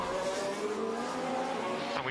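Formula 1 cars run at speed during practice at the Saudi Grand Prix, with a continuous loud engine whine and tonal drone that shifts pitch, and no talk over it.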